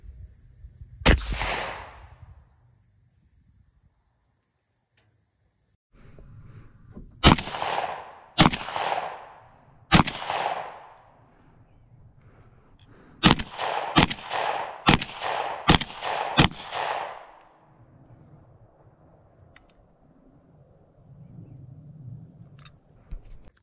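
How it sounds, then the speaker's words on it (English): Suppressed 12 gauge shotgun shots through a Salvo 12 suppressor ring out outdoors: a single loud report, a pause, then a string of about eight sharp, booming shots, several fired in quick succession, each trailing a short echo. "First couple shots, just like any suppressor"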